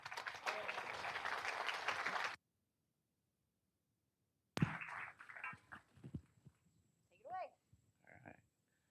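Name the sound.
audience applause welcoming the lecturer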